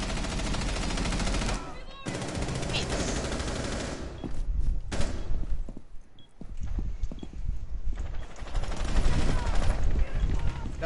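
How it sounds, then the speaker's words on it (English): Automatic gunfire from the character Ash's weapon in a PS4 shooter, sustained bursts of rattling shots over busy game noise, with players talking over it. "Aku dengar gun Ash."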